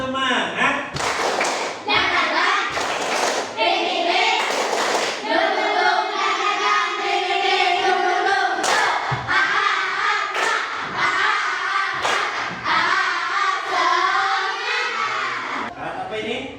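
A class of fifth-grade children performs a rhythmic spirit clap in a classroom, with patterned claps and thumps under continuous loud group chanting and voices throughout.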